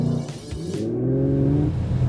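An Audi RS5 engine revs up and surges as it launches hard with launch control in a drag race, its pitch climbing then dropping at a gear change, loud and close.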